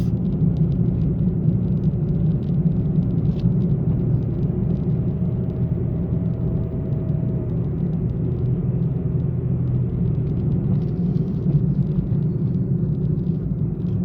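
Inside a 2024 Mitsubishi Mirage climbing a mountain road, the engine and road noise form a steady low rumble as the car gathers speed uphill, continuous and even, with no one talking.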